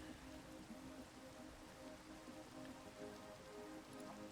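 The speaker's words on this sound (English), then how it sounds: "Why is it raining?" Steady rain falling in Minecraft, a continuous even hiss of drops on surfaces with no voices, holding at a constant moderate level throughout.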